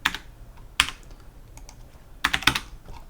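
Keys clatter on a computer keyboard as a spreadsheet formula is typed, coming in a few quick close clusters of clicks separated by brief pauses.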